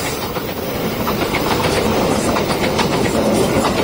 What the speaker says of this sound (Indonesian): kereta api Lodaya, Solo Balapan Bandung, Lodaya, melintas langsung